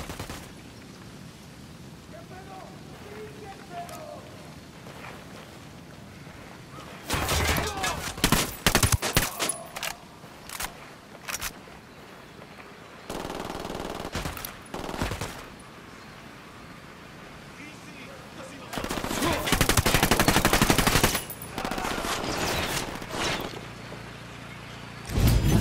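Gunfire from a Ghost Recon Wildlands firefight, with dense bursts and volleys of shots in several loud clusters separated by quieter stretches of ambient game sound.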